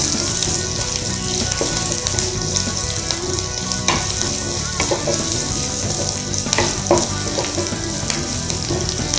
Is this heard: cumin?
yes